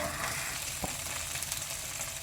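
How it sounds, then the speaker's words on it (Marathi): Onions sizzle steadily in a pan with ginger garlic paste for egg pulao, a continuous close crackle with one brief click partway through. "आनी हो त्या पियाव बरसो न्हू बरो करून भाजया"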